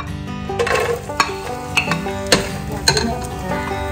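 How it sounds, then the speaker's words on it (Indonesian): Chili soup ingredients cooking in hot oil in a pan: steady sizzling and frying with stirring scrapes and a few sharp clinks of a utensil against the pot, close and fairly loud, no talking. "langsung aja kita masak ini sepertinya ini apa minyaknya sudah panas, langsung kita masak ya"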